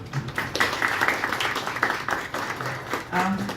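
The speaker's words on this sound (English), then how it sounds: "So please applaud for him also." An audience at a book reading and discussion applauds the host, a steady mass of clapping through the whole stretch, moderately quiet and somewhat distant, with a voice briefly speaking over it near the end.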